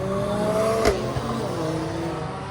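A Mercedes A45S revs on a street during a weekend night car meet, a broad engine roar rising briefly and sharply near the middle over steady traffic noise.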